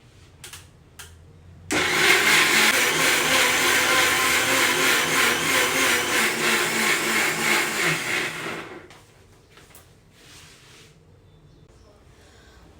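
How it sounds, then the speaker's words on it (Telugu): A kitchen mixer grinder whirs loudly for about seven steady seconds while grinding a batch for bottle gourd murukulu, with quiet handling sounds before and after. "మిక్సీ పట్టుకొచ్చినాను."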